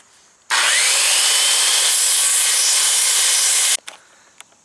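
A power saw cuts through the wooden side of a chicken tractor in one loud, steady, continuous pass lasting about three seconds, then stops abruptly, followed by a few faint knocks.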